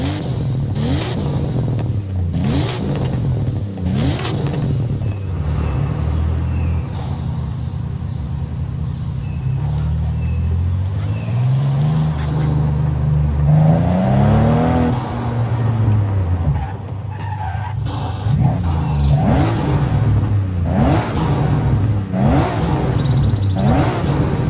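Stock Toyota Chaser with a 1JZ engine and aftermarket exhaust revving inside a tunnel in Forza Horizon 5, a steady loud engine drone with rising and falling revs and echoing pitch sweeps, heard alone without talk.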